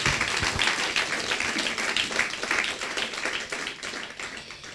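A church congregation cheers and applauds together, dense steady clapping filling the room for the whole stretch with no voices on top.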